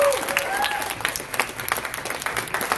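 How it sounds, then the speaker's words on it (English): Crowd applause at the NerdFair 2020 advanced cosplay competition, a lively burst of clapping with some cheering, loud and close, with a voice briefly audible over it. "Give yourself another round of applause."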